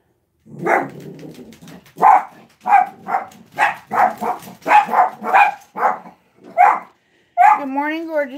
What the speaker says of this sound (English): Prepare for the dogs to go off.